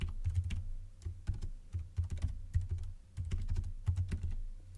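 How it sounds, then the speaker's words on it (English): Rapid keystrokes on a computer keyboard as an email address is entered, clustered bursts of clicking with brief pauses, close and clear with no talking. "Next, type in their email address."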